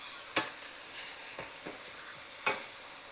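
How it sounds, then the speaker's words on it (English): Onions caramelizing and browning in a pan with meat for Salisbury steak, a quiet steady sizzle broken by a few sharp scraping stirs of a utensil, no talking. "They're just caramelizing and browning."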